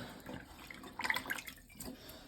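Water being sponged out of a toilet tank during a repair on a running toilet, faint close splashing and trickling as the sponge is squeezed into a bucket.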